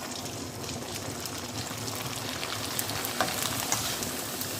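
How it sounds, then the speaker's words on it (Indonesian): Goat meat fries in a pan with a steady, dense sizzle close by, a few louder pops near the end, and no talk. "Kita goreng lagi."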